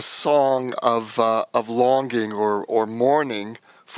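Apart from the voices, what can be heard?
None of the usual background noises is heard.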